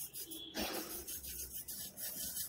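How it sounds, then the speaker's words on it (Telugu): A knife or cutting blade being rubbed with a pinch of salt to sharpen it, giving a close, steady gritty rasping scrape that runs the whole time with short strokes. "సాల్ట్ కొంచెం ఒక చిటికెడు సాల్ట్ తీసుకొని సాల్ట్ ఇలా అప్లై చేసి ఇట్లా రఫ్ చేసినా కూడా"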